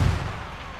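Gunfire and artillery from the Battlefield 1 beta on PC, a dense low rumble of distant shots and blasts that swells briefly at the start and then settles into a steady, muffled battlefield din.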